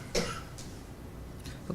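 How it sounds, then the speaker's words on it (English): A single short cough rings out on a remote budget meeting call, moderately close, with a fainter cough following and low room noise between them. "somebody's coughing"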